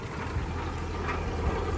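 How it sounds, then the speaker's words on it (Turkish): A tractor pulls a short potato-digging machine slowly across a field during the potato harvest, giving off a steady, unbroken low engine drone at moderate distance with no voices. "Traktörümüz bu şekilde ilerliyor."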